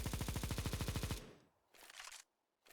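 Negev machine gun fires in Counter-Strike 2 as a fast, even burst of about twenty loud rounds lasting roughly a second, followed by short mechanical handling noises and quiet gaps.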